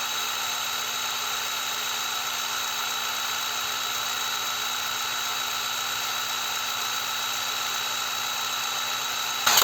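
ONEVAN 2800 Nm cordless impact wrench spinning freely at its second speed, a steady, loud, even high-pitched motor whine with a strong tonal hum that holds constant throughout, no voices.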